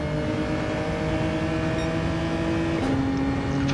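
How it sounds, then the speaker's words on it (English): Race cars on a straight in Gran Turismo 7, a loud steady engine drone with sustained high revving tones and a pitch shift as a gear changes near the end, close and constant. "So it's going to be a drag race down to T1."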